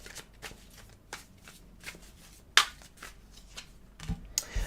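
Tarot cards are laid out and handled on a table, making soft repeated riffles and slaps, with one sharp louder snap midway and a flurry near the end, close and fairly quiet.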